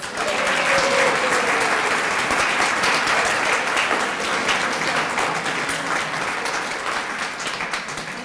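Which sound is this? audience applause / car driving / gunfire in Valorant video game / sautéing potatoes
audience applause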